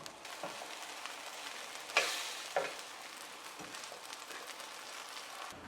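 Steady soft sizzling of plantain slices frying in oil in a non-stick frying pan, with two sharper clatters partway through.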